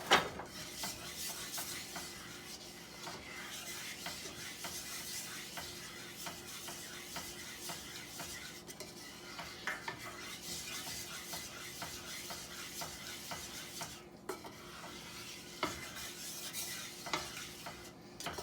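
A spoon or spatula stirs vegetables into a pot of chicken and sausage gumbo, making a steady scraping and sloshing sound with a faint sizzle, continuous at close range with no talking.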